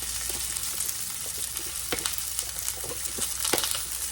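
Ground beef empanadas frying in bacon grease in a pan, a steady, fairly quiet sizzle with occasional sharper pops and crackles, no talking.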